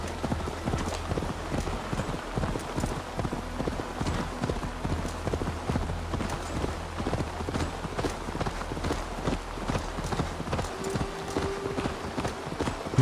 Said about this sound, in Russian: Какое все-таки красивое животное конь